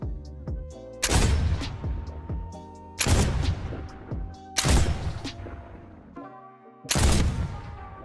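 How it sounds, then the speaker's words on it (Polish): Four loud, booming gunshots from a single-shot weapon in Fortnite fire one at a time at spaced intervals, each with a long ringing decay. "Posłuchajcie dźwięków strzałów tej broni."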